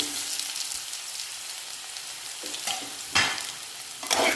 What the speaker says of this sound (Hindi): बैगन को निकालने के बाद हमने पैन में फिर से 2 बड़ा चम्मच तेल डाल दिया है। इसमें हम आलू को डाल देंगे।